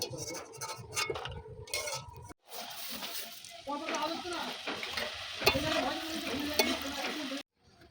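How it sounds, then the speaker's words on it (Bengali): Nimki snacks deep frying in hot oil, a steady close sizzle with bubbling and occasional stirring clatter that drops out briefly partway through and cuts off near the end. "লাল লাল করে ভেজে নিতে হবে"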